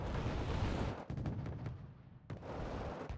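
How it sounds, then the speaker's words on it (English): An F-111 bombing run in Wargame: Red Dragon sets off a dense, rumbling barrage of explosions, heavy booming bursts that roll on continuously, loud with sharp cracks mixed in. "And F111 bombing here"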